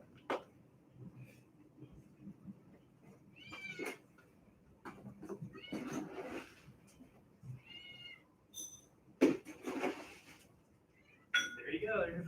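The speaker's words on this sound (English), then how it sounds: "What are you meowing about?" A cat meows several times at irregular intervals, with faint clinks of dishes and soft movement in between, fairly close and quiet.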